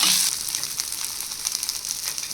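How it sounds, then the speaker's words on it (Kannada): Tender pomegranate shoots frying in oil in a pan, a steady close hiss with fine crackling pops that stays fairly even throughout, no one talking. "ಅದನ್ನು ಸ್ವಲ್ಪ ಎಣ್ಣೆ ಹಾಕಿ ಹುರ್ಕೊತಾ ಇದ್ದೀನಿ"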